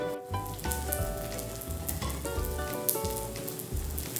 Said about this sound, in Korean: 누룽지가 차근차근 만들어지는 소리예요